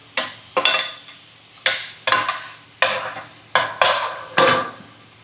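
Vegetables sauteing in a pan, with a spatula scraping and stirring in a steady rhythm of about eight sharp scrapes, each trailing into a soft sizzle, close and fairly loud.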